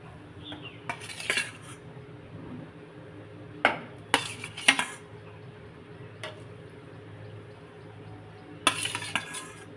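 Marinated hilsa fish pieces, coated in salt, turmeric and mustard oil, set into a pan one at a time, giving a handful of brief clinks and soft placements spread over a quiet kitchen background, with no talking.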